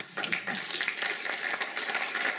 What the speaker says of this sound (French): vous pouvez vous applaudir déjà